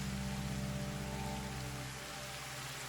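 Night rainfall in Zenless Zone Zero, an unbroken wash of falling drops hissing on surfaces with a faint low drone beneath, constant and close, no voices.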